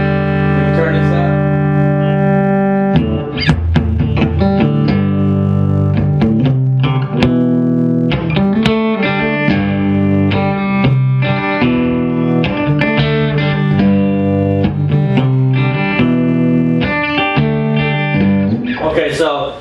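Electric guitar played through a Marshall JCM 900 4100 amp with the reverb turned all the way down, loud, dense distorted chords and riffs ringing continuously for about twenty seconds with no talking.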